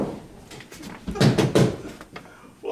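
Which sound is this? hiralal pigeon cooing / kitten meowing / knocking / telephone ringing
knocking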